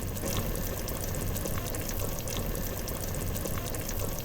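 Tommy's chili con carne bubbling on a Coleman camp stove, a steady dense simmer with soft pops and gurgles running continuously at an even, close level with no talk.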